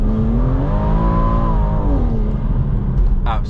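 A 580hp big-turbo BMW M240i with traction control off revs hard in second gear, its loud engine note rising and falling through the run as the tyres spin, with a voice talking over the car.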